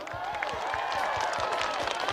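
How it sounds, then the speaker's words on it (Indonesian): A crowd applauds and cheers for an elderly minister after he drums with a band until his stick breaks, dense steady clapping filling the room with a musical ring beneath it. "Tepuk tangan sekali lagi buat Pak Basuki, come on."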